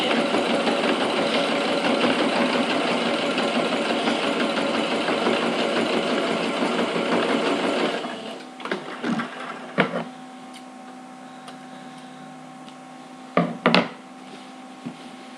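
A sewing machine runs in one continuous, loud stitching burst while backstitching a necessaire, then stops abruptly and is followed by a few sharp handling clicks and knocks in near silence.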